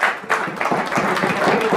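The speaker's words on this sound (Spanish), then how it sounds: "Dale un aplauso" Brief burst of applause from a church congregation during a sermon, steady and close with a rough, crowded texture and some voices mixed in.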